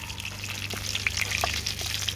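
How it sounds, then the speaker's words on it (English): Kaffir lime leaves and cumin frying in hot oil in a pan for an Indian restaurant-style monkfish curry, a steady close sizzle with small crackling pops, no voices. "So fry those kaffir lime leaves, get them hydrated again."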